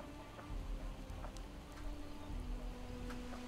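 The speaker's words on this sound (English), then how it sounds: "Now it's raining hard." Heavy rain in the zombie survival game Project Zomboid, a steady, faint, dense hiss of falling drops with a low rumble beneath and scattered soft ticks, continuous throughout with no talking.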